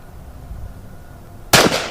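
A single sharp, loud handgun shot at an outdoor shooting lesson, sounding suddenly after a quiet stretch and ringing out briefly afterward.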